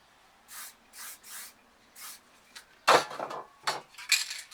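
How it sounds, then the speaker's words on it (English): A spray paint can releases white paint in short hissing bursts, a few soft even puffs followed by louder, sharper sprays and small rattles, heard close up with no talking. "Just remember, spray it lightly so you get no leaking under your lid stencil."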